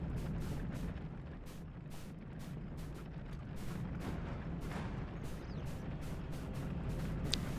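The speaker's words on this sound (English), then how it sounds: "We have our mage cannon here." Mage cannons fire in the Hyrule Total War battle game, a rapid series of booming blasts and impacts at a fairly low level over a continuous battle rumble.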